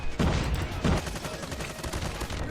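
Bursts of rapid gunfire in the Call of Duty Mobile video game as the player takes hits, two louder volleys then a rattling continuation, moderately loud.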